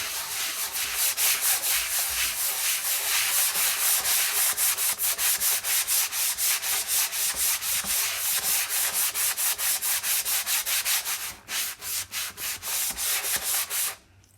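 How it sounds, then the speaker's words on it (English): Hand sanding works the grooves of a repurposed wooden cabinet door, a close, continuous rasping scrub with quick back-and-forth strokes that briefly break up near the end before stopping. "I'm going to get in some of these little grooves here and just kind of get that sanded."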